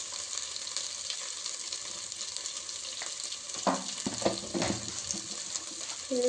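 Egg biryani masala frying steadily in a pan as chilli powder goes in, a constant close sizzle joined midway by a few scraping stirs and clinks, no voices.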